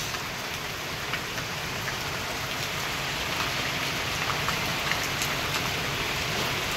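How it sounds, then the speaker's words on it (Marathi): Heavy afternoon rain falls in a steady, dense hiss close by, with scattered louder drops striking surfaces and no voices over it. "पाऊस बघा कसा सुटलाय."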